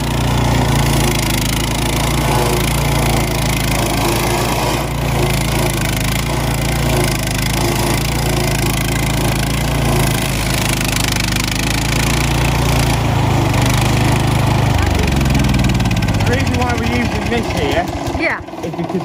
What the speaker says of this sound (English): And this is the stump grinder?